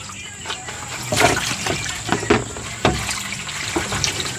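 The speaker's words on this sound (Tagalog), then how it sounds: "Yan, ilalagyan na ng sabaw ni tatay." Broth is ladled into a pot of chicken tinola soup, with several separate splashy pours and gurgles in a home kitchen, fairly close and loud.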